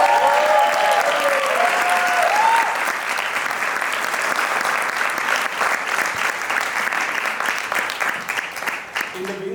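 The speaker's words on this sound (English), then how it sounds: "big round of applause." A large audience at a charity presentation and acknowledgements event breaks into loud, sustained applause that holds steady for several seconds, with a brief voice or tone early on, before it thins out toward the end.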